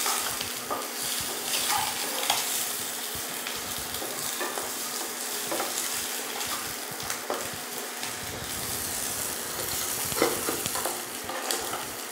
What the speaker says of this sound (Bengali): ডিমগুলিকেও ওর সাথে ভেজে নেবো একটু হালকা করে।